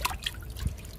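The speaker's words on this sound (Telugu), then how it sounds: "మునగ మొక్కకి ఇచ్చేద్దాము లిక్విడ్ని." Liquid fertilizer poured onto a drumstick plant, a brief close trickle with a couple of small drips, no voices.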